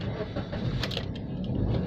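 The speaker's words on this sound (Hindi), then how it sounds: "ये हमारी गाड़ी स्टार्ट हो गई।" A Suzuki Cultus VXL car settles into a steady, close mid-pitched engine idle right after a key-turn start, continuous for a couple of seconds with no talk.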